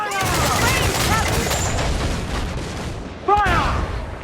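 Broadside ship cannons fire in Assassin's Creed IV Black Flag, a dense rolling volley of booms followed by one more sharp blast near the end, with shouted voices mixed in.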